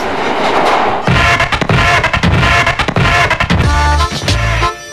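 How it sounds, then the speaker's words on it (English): A New York subway train on the 2 line rides along with loud rumbling and rhythmic clattering of wheels over track joints, ending with a squealing metallic tone as it slows. "I hopped on the subway back to Manhattan and took the 2 train to Riverdale in the Bronx"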